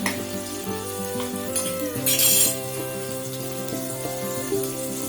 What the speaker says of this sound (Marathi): आता मी हाय फ्लेम करते, कांदा भाजायला हवा ना